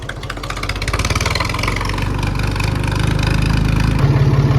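A tractor engine idles and chugs steadily at close range, a loud low rhythmic throb that continues throughout with no voices.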